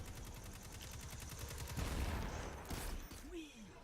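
Rapid bursts of automatic weapon fire in the video game Destiny 2, played as a Titan, keep up a dense, steady rattle throughout, with a brief whooshing effect near the end.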